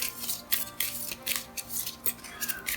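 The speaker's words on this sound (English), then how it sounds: "these get shuffled up." Hanamachi cards from the KyotOkiya board game being shuffled by hand, a close, dry riffling and snapping of card stock in quick repeated bursts with short pauses between them.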